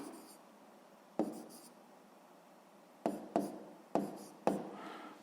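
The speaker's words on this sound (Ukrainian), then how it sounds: "Записуємо Кравчук" A pen writes a name on paper, with a faint continuous scratch and several sharp taps and strokes near the end, close and quiet.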